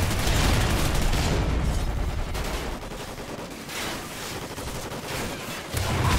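Sustained gunfire from a Call of Duty: Ghosts team deathmatch, a dense, loud fusillade of rapid shots with booming low thuds at the start and end.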